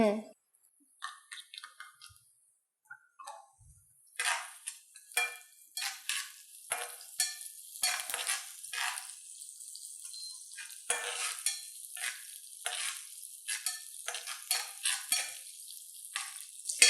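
Green chilies frying in very hot oil for Gujarati-style dragon potato, a steady close crackling sizzle with bursts of stirring and a few utensil scrapes after a quiet start, running on without talk.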